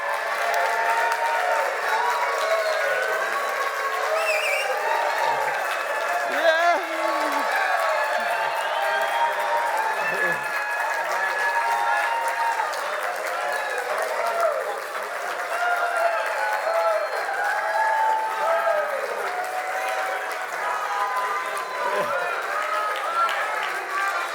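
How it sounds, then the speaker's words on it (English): A crowd roars, cheers and claps continuously at full volume for over twenty seconds, a dense sustained wall of shouting and applause with small swells, urged on at a live event. "Make as much noise as you can."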